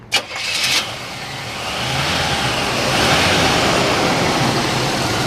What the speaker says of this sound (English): Go ahead and fire this one up for you.